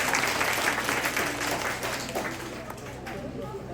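Crowd applause greeting a newly professed Capuchin religious at a Catholic gathering on Zile Kaymit, steady clapping filling the space and easing off slightly toward the end, with voices mixed in beneath.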